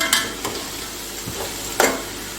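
Faint sizzling of crushed ginger and garlic frying in a pot, with occasional clinks and scrapes of a spoon stirring. No one speaks.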